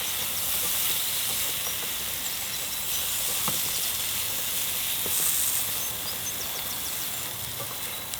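Spices cook off in a hot pan over an outdoor fire in the woods for an extra-hot chicken curry, giving a steady, dense sizzling hiss that holds at an even level for several seconds with no voices.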